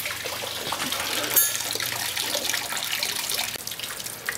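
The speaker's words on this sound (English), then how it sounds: "We're going to let the rest of the water drain out now" Water drains from a Chevrolet Malibu's radiator hose onto gravel in a steady, close gush that runs without a break, while a person talks faintly under it.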